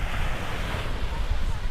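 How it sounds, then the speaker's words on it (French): Waves from a passing boat's wake wash up onto the beach at Port Louis, a steady loud rush of surf mixed with heavy wind buffeting the microphone throughout. "on vient d'avoir les vagues du bateau"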